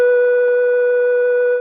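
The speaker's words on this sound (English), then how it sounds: "this tone, which is the one I got from Neil's house on 660 and would soon be able to get on my own phone" A steady telephone exchange tone from a 660 exchange, the line tone heard with the receiver off hook, rings out loud and unbroken for nearly two seconds with no voices.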